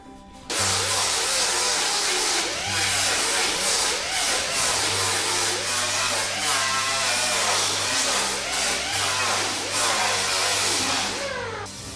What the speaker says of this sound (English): I'm going to grind down these sides here because all this is coming off